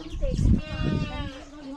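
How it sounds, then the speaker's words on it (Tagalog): A goat lets out a long, wavering bleat close by, with other farm animal sounds and people murmuring in the background. "Daming kambing."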